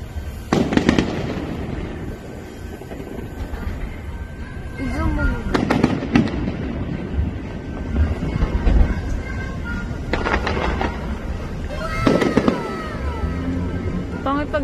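Fireworks burst outdoors at night in Mihama, Japan, with several loud separate explosions spread across the stretch while people chat nearby.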